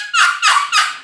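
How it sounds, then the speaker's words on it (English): A wild turkey gobbler gobbling from up in a tree, three quick, loud, rattling bursts in rapid succession, close and clear with no other sound. "You got him gobbling so much while he's still up in a tree."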